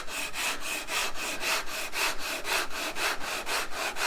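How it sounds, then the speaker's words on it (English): Rhythmic strokes of a sanding block fitted with coarse 80-grit sandpaper rasp back and forth over wood by hand, about eight even scrubbing passes, close and loud with no talking. "since I have to take a lot of material off of here by hand, I'm using 80 grit."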